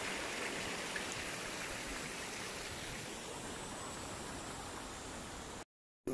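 Steady broadband rush of water pouring down an artificial waterfall into a lake at Don Valley Brick Works Park, a constant close wash with no voices, cutting to silence briefly near the end.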